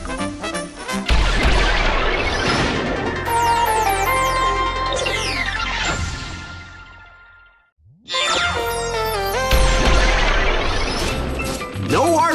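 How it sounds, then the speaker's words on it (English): Unstable plasma grenades from the Plasma Bomb Launcher burst in Ratchet & Clank: All 4 One, loud crashing blasts layered with whooshes and sci-fi tones. The blasts fade out briefly, then a second barrage erupts. "This doohickey lobs grenades armed with unstable plasma"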